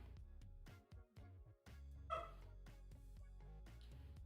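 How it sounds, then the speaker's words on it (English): A pet dog barks in a home during a livestream, reacting to a delivery person on the street outside; several short, muffled barks come from another room behind steady room tone. "if you can hear my dog barking in the background."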